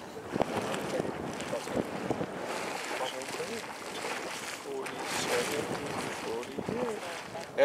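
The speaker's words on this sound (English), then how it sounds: "And the wind's coming right at me." Gusty wind buffets the microphone outdoors at Anemone Geyser, a steady broadband rumble and roar lasting throughout, with faint voices in the background.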